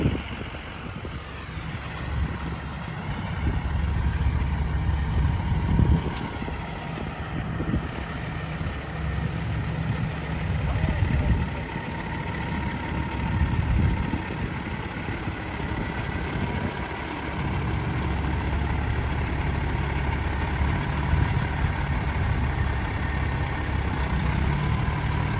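A truck hauls half of a double wide mobile home, its diesel engine rumbling low and steady for the whole stretch, with wind buffeting the microphone and occasional louder surges.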